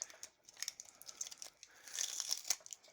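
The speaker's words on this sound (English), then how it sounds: "Now I can grab the battery pack and carefully remove the painter's tape" Painter's tape peeled carefully off a lithium-ion battery pack, giving quiet, intermittent crackles and sticky ripping ticks close to the microphone, with brief pauses between pulls and a busier stretch near the end.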